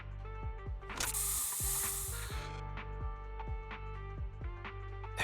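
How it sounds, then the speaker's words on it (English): A special Bangboo spray in the video game Zenless Zone Zero lets out a loud hissing burst of about a second and a half over steady mechanical clicking and ticking game effects. "Here, have a taste of the special Bangboo spray."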